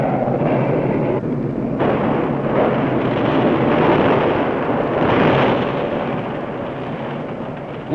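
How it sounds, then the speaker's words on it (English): Tons of explosives from B-52 bombing raids pounding the Con Thien zone in the Vietnam War, a continuous heavy rumble of distant blasts rolling together, loud and sustained, with a sharp crack at the very end. "They pound the zone day in, day out with tons of explosives."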